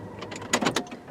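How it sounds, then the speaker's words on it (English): Car power windows opening, a short mechanical whirr of electric window motors rising in a couple of brief pulses, close by and alone. "I gotta open windows."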